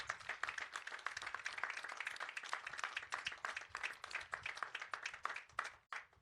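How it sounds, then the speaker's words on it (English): Applause for faculty and staff at a college commencement ceremony: a sustained crowd of many hands clapping steadily at moderate volume, filling the whole stretch before tapering at the end. "So let's give them a special round of applause."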